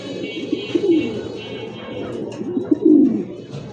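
A pair of white, feather-footed American fancy pigeons coo softly nearby, low throaty rolling calls rising twice over a murmur of background noise, with a faint voice in the mix.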